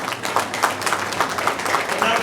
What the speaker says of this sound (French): pour applaudir les garçons et leurs pères